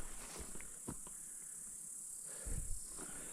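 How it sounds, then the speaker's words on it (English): Crickets or cicadas chirp in a continuous high, steady drone along a trail on the Mesa Butte loop in Kananaskis, with a few faint footsteps or rustles underneath and no speech. "Hear all the crickets or cicadas or whatever they are making all the noise."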